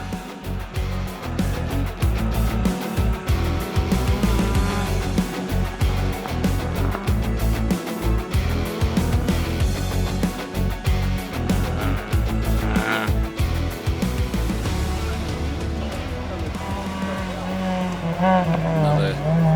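A rally car on the dirt final stage of the Algoa Scribante Rally roars and revs in loud uneven bursts with gear changes, while a commentator talks over it throughout.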